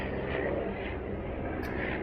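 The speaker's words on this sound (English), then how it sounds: "pardon the noise that is out there of this passing helicopter" A helicopter passes outside in South Africa, a steady broadband engine and rotor roar that holds at a constant level throughout, with no talk over it.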